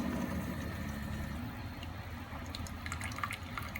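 A faulty Cuisinart coffee machine pours coffee in a steady trickling, dripping stream over a low mechanical hum, with faint splashy drips growing in the later seconds and no talking.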